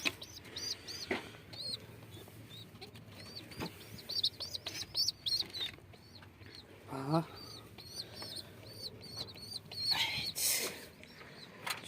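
Mardin pigeons, a Turkish breed, give repeated chirps and soft coos close by, scattered irregularly among clucking and handling noises, with someone speaking intermittently.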